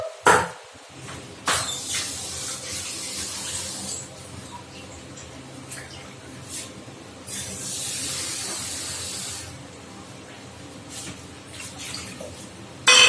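Water is poured into a simmering Bengali fish kalia curry, a hissing splash near the start and again later, with bursts of bubbling and hiss between quieter stretches.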